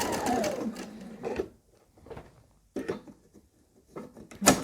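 A sewing machine runs in short bursts while stay stitching within a narrow 6mm seam allowance on a Butterick garment, close and clear, with brief quiet pauses between runs.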